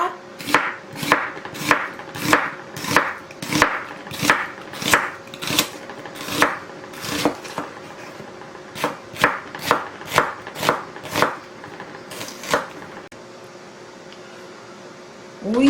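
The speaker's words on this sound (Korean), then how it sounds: "양파는 반 개만 채를 쳐서" A knife julienning half an onion on a cutting board for cucumber-chive kimchi: a steady run of crisp, evenly spaced chopping knocks, close and clear, pausing briefly near the end with no talk over it.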